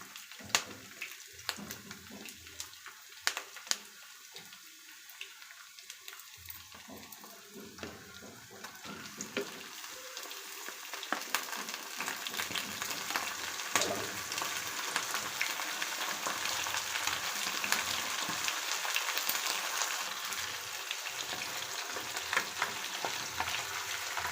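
Chicken pieces fry with browned onions in a pan for a home-style chicken curry, a soft crackling sizzle that builds louder and denser over time, with occasional stirring scrapes.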